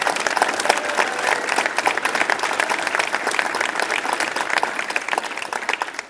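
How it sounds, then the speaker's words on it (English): A crowd at a tech startup demo day applauds for an event manager. The clapping is loud, dense and sustained at a steady level for several seconds before it tapers off at the end. "Please give her a round of applause."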